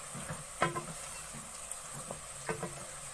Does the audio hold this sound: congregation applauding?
no